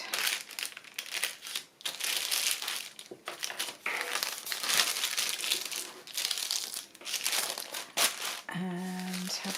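A paper bag being folded into a journal, with close, continuous crinkling and crumpling of paper in uneven bursts, and a brief voice near the end.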